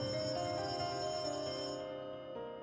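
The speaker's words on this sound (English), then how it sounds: "and then the phone rings" A telephone rings with a sustained bright bell tone that carries steadily, then cuts off near the end, faint and alone.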